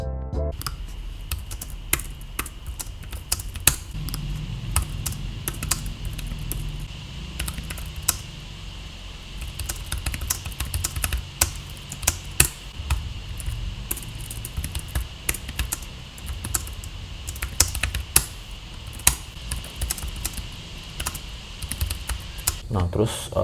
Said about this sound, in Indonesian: Kalau gua ngetik tuh bener-bener satisfying banget, enak banget rasanya, bunyi cetek-cetek gitu